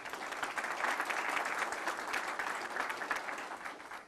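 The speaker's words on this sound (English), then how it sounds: "So let's give them a round of applause." A seated audience at a county political candidate forum gives a round of applause, a steady, dense wash of many hands clapping that holds evenly throughout before easing slightly at the very end.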